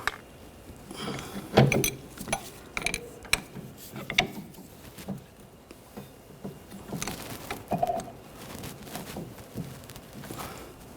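Ratchet tightening a rear brake caliper bolt on a 2013-2019 Ford Escape, heard as bursts of close metallic clicking and clattering with short pauses between strokes.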